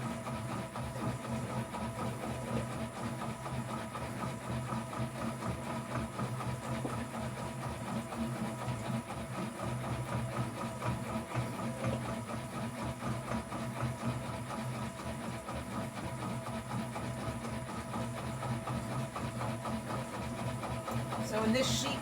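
A needle felting machine drives about 200 needles through a wool bat to form a felt sheet, producing a steady, dense mechanical chatter and hum that runs evenly and loudly throughout without a break.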